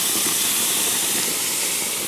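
Birria sauce pours into a smoking-hot frying pan just used for searing meat, letting out a loud, continuous sizzling hiss that stays steady and close throughout.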